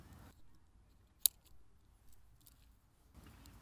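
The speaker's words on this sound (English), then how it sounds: "right now we're going to cut off one of the propellers and after that take off" A single sharp snip of scissors cutting through a DJI Spark drone propeller, one brief crisp click standing out in a quiet room with low background rumble.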